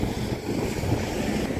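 Wind buffets the microphone outdoors on a rainy day, giving a steady low rumble with no clear breaks across the short stretch.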